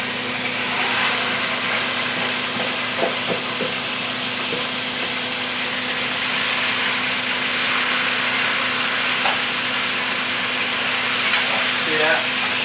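Stewing beef searing in a hot pot, a loud, steady broadband sizzle that runs throughout with a few faint clinks and no talking.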